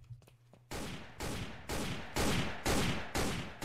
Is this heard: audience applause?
no